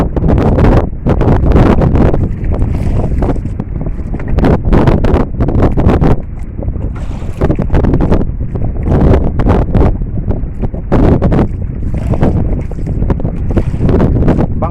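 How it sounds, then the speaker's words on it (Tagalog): Strong wind at sea on a fishing boat buffets the microphone in loud, continuous roaring gusts, a rough blustery rumble that barely lets up from start to finish. "Medyo malakas yung hangin."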